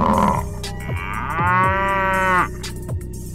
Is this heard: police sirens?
no